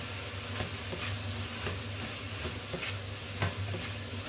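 Shrimp stir-frying in a pan with bell pepper and onion, giving a steady close sizzle with soft scraping stirs and light clatter at intervals, no voices.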